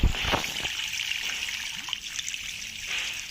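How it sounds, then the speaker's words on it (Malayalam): Water siphoned out of a fish tank through a pipe, trickling and splashing steadily and close by throughout, with a short gush at the start. "ഇതിപ്പോൾ വരുന്നത് ടാങ്കിലെ വെള്ളമാണ്."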